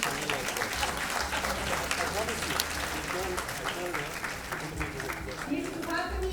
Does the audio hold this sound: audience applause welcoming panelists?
yes